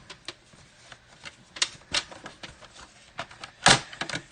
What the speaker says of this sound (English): so I'm going to pull in my trimmer